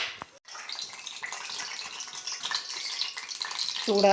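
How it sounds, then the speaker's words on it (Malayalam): Coconut oil poured into a hot pan, giving a steady, close, broad hiss and sizzle that builds gently over a few seconds with no talking. "ചീനച്ചട്ടി ചൂടായ ശേഷം നമുക്ക് ഇതുപോലെ കുറച്ച് വെളിച്ചെണ്ണ ഒഴിച്ച് കൊടുക്കാവുന്നതാണ്."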